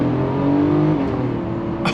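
A 1999 Mercedes-Benz SL 600 with a naturally aspirated V12 pulls hard under kickdown, its engine a loud, continuous roar with a shift in pitch partway through, heard from inside with no talking.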